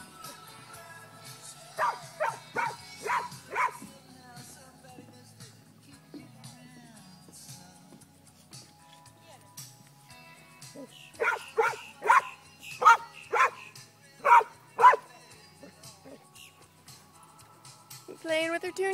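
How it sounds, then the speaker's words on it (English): A Labrador puppy barks in two quick clusters of sharp yips and woofs while playing with a wild deer outdoors, with quiet stretches between them. "It's Daisy, the lab puppy, playing with the deer."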